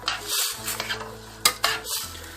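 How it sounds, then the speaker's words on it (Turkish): Chunks of meat for lokanta-style kavurma are stirred in a cooking pot with a utensil, producing repeated scraping and clanking against the metal over a constant sizzling fry, close and fairly loud. "Tekrar karıştırıp tenceremin kapağını kapatacağım."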